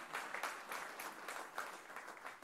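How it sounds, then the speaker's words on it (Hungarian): Audience applause at an outdoor award ceremony in a museum garden, honoring a public education prize winner; steady moderate clapping from a crowd, fairly distant and even throughout. "Tapsot kérünk neki!"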